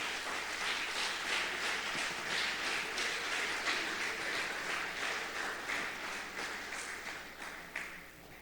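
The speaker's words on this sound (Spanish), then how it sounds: "Denle un aplauso al Señor en esta mañana." A church congregation applauding during a Spanish-language service, a broad, even patter of many hands in a reverberant hall that carries on steadily and tapers slightly toward the end.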